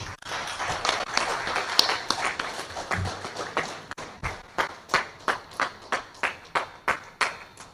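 An audience claps in welcome at the launch of a BBB chapter in Bengaluru. Scattered applause at first gives way to fewer hands, then settles into slow, evenly spaced rhythmic claps close by.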